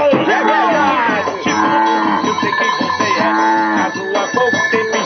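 A cow's moo rings out over a lively sertanejo-style comic song, its drawn-out bellow blending with steady loud music.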